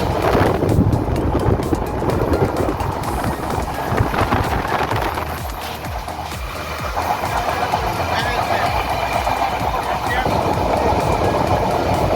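Steady rumble and rattle of a moving train heard from inside a carriage near Sirajganj after crossing the Jamuna rail bridge, loud and continuous with wind noise and voices talking over it.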